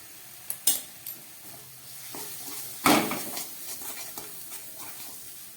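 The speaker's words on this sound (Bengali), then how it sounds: "একদম গ্যাস কমিয়ে আমি রান্না করছি।" Bele fish curry masala cooking in a pan on a low gas flame, with water and black pepper added; soft sizzling under a few sharp clinks and scrapes of stirring, one louder burst midway.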